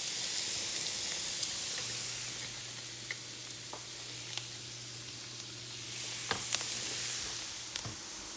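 Chopped onions sizzle steadily in a pan, a constant close hiss of frying with occasional sharp pops and crackles, with a low hum underneath and no voices.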